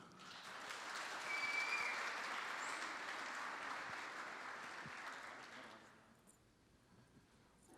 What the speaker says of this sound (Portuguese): Palmas para o Fábio.